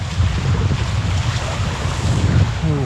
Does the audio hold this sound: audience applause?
no